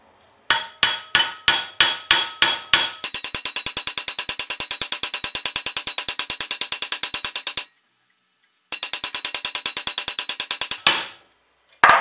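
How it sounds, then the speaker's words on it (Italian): A metal pyrograph tip being hammered on an anvil, first a handful of separate ringing strikes, then long, fast, steady runs of sharp metallic blows broken by a brief pause. "non semplicemente qualche martellata, ma alterneremo martello d'incudine"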